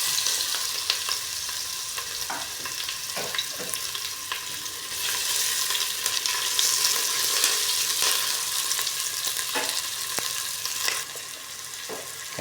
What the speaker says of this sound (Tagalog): Igigisa ko rin yan.